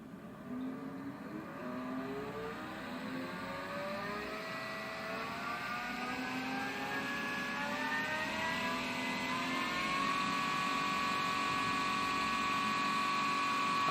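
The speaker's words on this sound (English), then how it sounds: "So we'll start to run the motor up." An electric motor run up toward maximum speed during a vibration test, a steady close whine that climbs gradually in pitch with several rising tones, continuous and unbroken with no talk.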